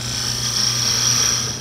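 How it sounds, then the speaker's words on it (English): A parting tool cuts a small turned wooden piece off on a lathe, a continuous close whine with a steady motor hum beneath, lasting under two seconds. "Now I'll use the parting tool to cut this piece off"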